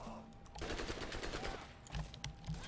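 Shotgun gunfire in the Borderlands video game, heard as dense, crackling bursts of shots with a heavier blast near the end, running throughout the short stretch.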